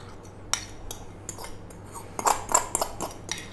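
A salad being tossed with lemony mayonnaise in a bowl, with a run of light clinks and scrapes from utensils against the bowl, close and fairly quiet.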